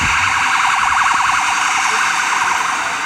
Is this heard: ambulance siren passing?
yes